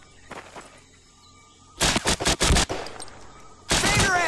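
Bursts of machine-gun fire ring out in a WWII video game: quiet distant shots first, then a loud, rapid close volley with a brief pause before another burst starts.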